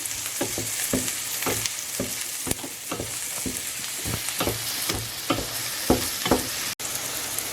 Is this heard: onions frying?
yes